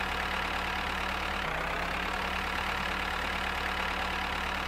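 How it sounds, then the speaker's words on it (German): Tractor engine idling in the Farmers Life farming game, a steady low droning rumble with a constant hum, continuous and fairly loud with no talk over it. "ich hole die mit dem Traktor ab"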